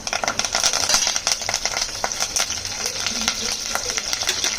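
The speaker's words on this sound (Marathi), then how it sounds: "ते तेल गरम झालं आहे. राई, कढीपत्ता आणि सुकी मिरचीची फोडणी देते." Mustard seeds, curry leaves and dried chili crackle and spit in hot oil as a tempering for a Marathi-style curry, a dense run of sharp pops and sizzle with faint stirring, heard close and with no talk.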